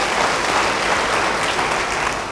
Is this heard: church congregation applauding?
yes